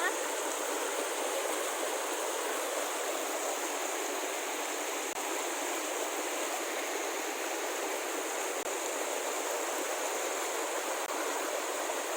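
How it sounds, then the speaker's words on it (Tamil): A small waterfall near Kemmangundi in Chikmagalur pours with a constant, close, full roar of falling water that stays even from start to finish and is heard alone. "இங்கே வந்து குட்டி ஃபால்ஸ் இருக்குது பாருங்கள்."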